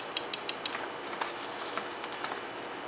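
A three-prong microswitch clicks sharply four times in quick succession, then gives a few softer, scattered clicks against a steady background hiss.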